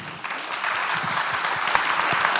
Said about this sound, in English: Round of applause to Anna.